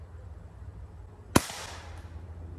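A homemade gun built from hardware store parts fires a single shot: one sharp, loud crack with a short ringing tail, standing alone against a low outdoor rumble.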